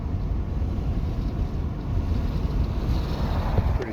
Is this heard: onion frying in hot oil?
no